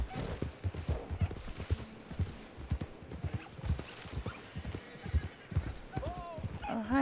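Horse hooves clip-clop steadily in Red Dead Redemption 2, a whinny rising near the end, with game sounds and speech-like noise mixed underneath.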